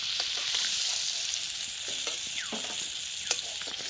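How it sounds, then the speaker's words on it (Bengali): Pond-caught giant freshwater prawns fry in hot oil in a pan, giving a loud, continuous close sizzle with occasional spatters and the scrape of stirring. "চিংড়ি মাছটা কিন্তু খুব একটা বেশি ভাজবো না"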